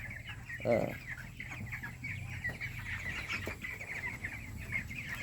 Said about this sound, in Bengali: এই যে দেখুন মুরগিগুলো লাফাচ্ছে